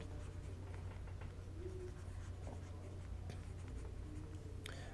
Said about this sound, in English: I am just going to erase this and use the space